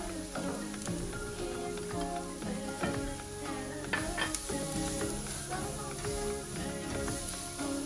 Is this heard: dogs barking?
no